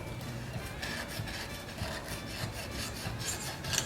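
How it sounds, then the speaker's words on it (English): Hand scraping of carbon buildup from the cylinder ridge of a Kohler Magnum 20 engine, a steady raspy rubbing that continues throughout, close and fairly quiet with no talking. "This has got a lot of carbon built up on it. So you want to kind of scrape that off."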